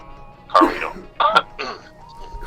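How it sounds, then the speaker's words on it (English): A man nearby coughs and clears his throat in a few short, rough bursts spaced apart, with quieter background between them. "Sometimes you got a cough or something."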